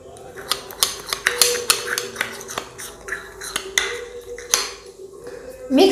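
A spoon scrapes and clinks against a bowl while rice flour and milk are mixed into a face pack paste, a quick irregular run of taps and clatters, close and fairly loud.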